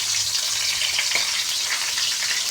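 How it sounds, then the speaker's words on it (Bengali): Chopped onion and green chilli frying in hot mustard oil in a pan, giving a steady, close, continuous sizzle with a faint stir partway through. No talking. "দিয়ে দিলাম পেঁয়াজ কুচি, কাঁচা লঙ্কা, এখন দিয়েছি সর্ষের তেল"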